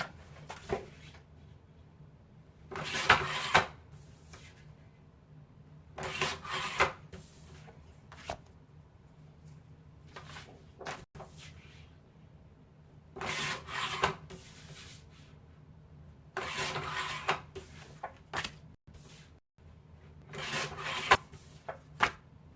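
Paper pieces are cut for a Halloween craft cover: short, close, quiet bursts of rasping slicing strokes repeat irregularly with pauses between, and no one talks.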